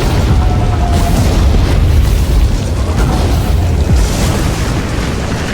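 An explosion effect from lava-spewing locusts bursting in an animated fantasy battle: a loud, sustained roaring blast with rumbling low end and hissing debris that fills the whole stretch without a break.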